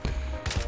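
Gunfire in the video game Battlefield: a short, loud burst of rapid shots with dense, crackling impacts, heard alone without talk.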